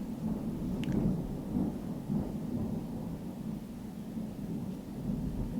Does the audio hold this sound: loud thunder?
yes